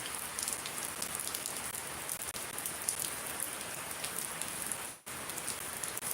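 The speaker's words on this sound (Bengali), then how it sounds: "আবার শুরু হইতেছে বৃষ্টি" Steady rainfall in Shariatpur, Bangladesh keeps up a dense, uniform shower of drops nearby, broken only by a brief dip near the end, without any voices.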